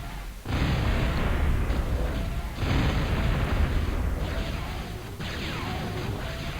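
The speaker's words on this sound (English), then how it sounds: "Heavy laser cannon." A heavy laser cannon fires in the strategy game Total Annihilation, three loud booming blasts in succession, each a long roaring burst that rolls into the next, with no talk.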